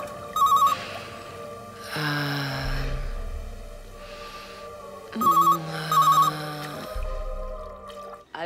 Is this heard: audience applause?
no